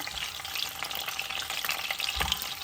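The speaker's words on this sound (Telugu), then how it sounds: "కొద్దిగా మనకి కలర్ వచ్చి ఆ బ్యూటీ కనిపించేంత వరకే వేయించుదామండి ఎగ్స్" Eggs fry in a pan for prawn and egg biryani, giving a continuous crackling sizzle with occasional stirring scrapes and no talking.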